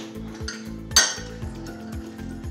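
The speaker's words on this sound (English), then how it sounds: "now take that fork and stir the whole thing" Fork stirring egg wash in a bowl, quick rhythmic clinks and scrapes of metal against the bowl at close range, with one sharper knock partway through.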